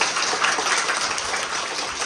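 Students applauding a winning teacher at a school event, a steady dense wash of clapping held for about two seconds with no voices over it.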